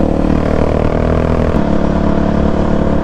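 A Honda CRF450X dirt bike engine drones steadily and loudly during wheelie practice on a closed course in Mexico, holding a constant high rev with a brief shift in pitch midway, with no voices.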